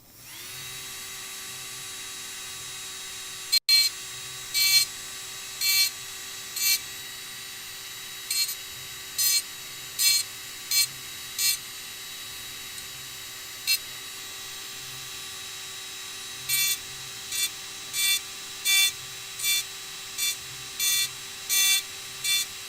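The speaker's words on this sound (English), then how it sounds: "this is a diamond drill bit" A diamond drill bit engraves letters into a glass coffee jar, short high whining bursts recurring at irregular intervals over a constant faint electrical hum, quiet and close.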